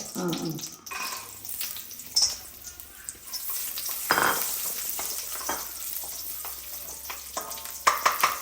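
Ghee crackles and sizzles in a pan while kesari is fried, with irregular sharp pops and spoon stirring scraping through a soft steady fizz.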